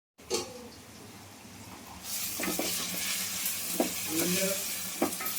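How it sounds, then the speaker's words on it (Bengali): Onions fry in a pan with a steady sizzle that grows louder partway through, punctuated by a few scraping stirs of a utensil, without any talking. "ওদিকে পেঁয়াজটাকে ভাজি করছি"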